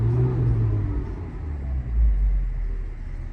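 A 2009 Mini Cooper engine revs up and settles back, a steady low rumble with a brief swell midway, heard close with no talking.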